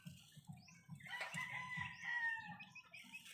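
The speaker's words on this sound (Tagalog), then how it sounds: "Nangingitlog ka pala, putak ka ng putak." A hen clucks after laying eggs, a close, quiet string of rhythmic low clucks with a brighter squawking call rising in the middle.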